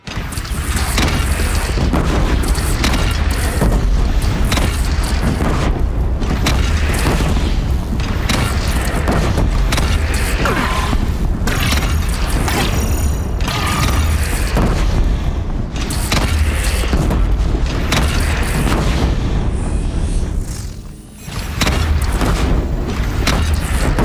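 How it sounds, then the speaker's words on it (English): Cannon fire and explosions in the action game Horizon Zero Dawn rumble continuously at high volume, with repeated heavy booms packed into a dense, loud barrage that dips only briefly near the end. "They only have one cannon!"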